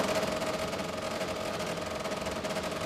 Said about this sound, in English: Noisy beasts, these saws,